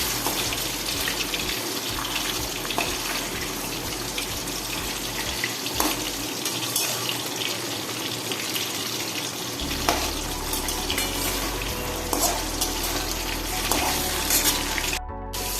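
Chicken pieces frying in white oil in a pan make a loud, continuous crackling hiss that rushes on steadily throughout, with no talking.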